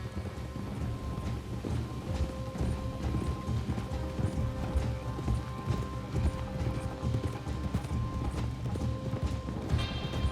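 Horse hooves clip-clop steadily in a video game, the rhythmic footfalls layered with game ambience and faint mechanical sounds, continuous and fairly close.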